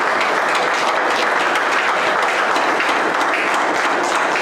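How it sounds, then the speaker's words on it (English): Sustained applause from an audience at a religious gathering, dense and steady clapping filling the whole stretch at close range with no talk over it. "Let's give them a warm round of applause."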